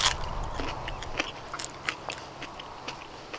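Someone bites into a raw, freshly cleaned evergreen shallot onion: a loud crisp crunch at the start, then a run of small close snaps and crackles while it is chewed, with no speech.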